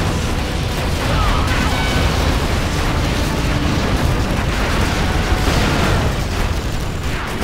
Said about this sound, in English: How about those rocket bombs?